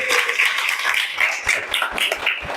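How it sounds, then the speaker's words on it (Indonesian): An economics classroom group claps together, a dense burst of hand claps that holds steady for a few seconds at close range. "Tepuk tangan."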